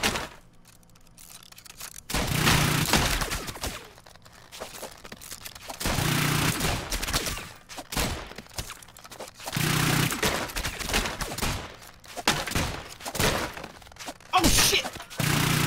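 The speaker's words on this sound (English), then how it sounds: "I got a full load of those bullets." Rapid gunfire and impacts from the physics shooter game Rounds in a 1v1 match over lava, loud bursts of dense crackling shots recurring through the clip, with brief quieter gaps between volleys.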